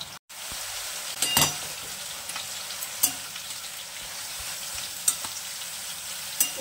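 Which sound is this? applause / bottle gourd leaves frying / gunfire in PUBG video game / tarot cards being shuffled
bottle gourd leaves frying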